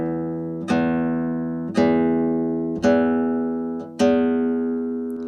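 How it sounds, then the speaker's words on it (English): Four guitar notes plucked at the string midpoint ring out one at a time, each decaying slowly, with a soft, hollow, clarinet-like tone lacking bright overtones. "we can play clarinetto. And we do this by playing at the midpoint of the string,"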